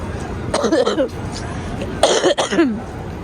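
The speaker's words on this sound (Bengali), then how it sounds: "আমার কাশির সাউন্ড শুনেই বুঝতে পারছেন" Two harsh bursts of coughing, close to the mic, separated by a short pause, with faint chatter and background noise underneath.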